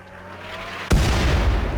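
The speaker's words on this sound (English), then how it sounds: "Let's get him out of there before the next mortar hits." A mortar shell explodes in the RimWorld video game with one sudden loud boom about midway, after a quieter stretch, followed by a dense rumbling roar.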